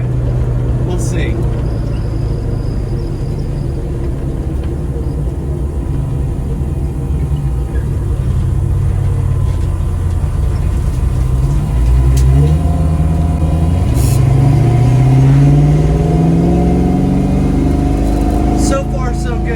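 Budget Fox body Mustang engine droning steadily, then revving up with rising pitch during a launch around the middle, loud and close with some wind and road noise.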